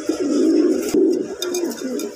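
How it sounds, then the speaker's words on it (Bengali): A pair of Indian Homa pigeons coos in low, rolling phrases close by, a few short coos repeating through the moment with faint chirps and no talk. "এখানে এক জোড়া কবুতর আছে, এটা ইন্ডিয়ান হোমা"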